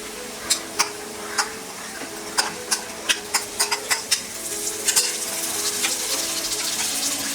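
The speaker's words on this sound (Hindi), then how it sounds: "अब हम इसमें डालेंगे ये कुक्ड ग्रीन चना" Boiled green chickpeas are tipped into oil-fried spices for an aloo hara chana curry and stirred, with a series of sharp spoon clicks against the pan followed by a rising, steady sizzle.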